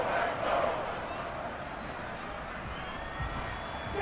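A stadium crowd in the American football video game Madden NFL 23 roars and cheers ahead of a big third down, a sustained broad swell of voices that peaks early then holds steady, with commentary-like talk over it.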